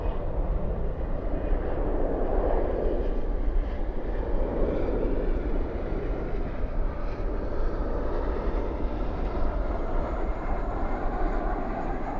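A landing airliner with spoilers up and thrust reversers deployed at Dallas Fort Worth airport at night gives a loud, steady, broadband roar that stays unbroken for about twelve seconds.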